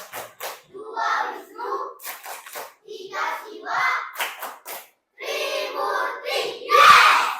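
Children clap the Tepuk Trimurti chant in a Hindu religion class, sharp hand claps in short rhythmic bursts mixed with chanted young voices, fairly close and lively.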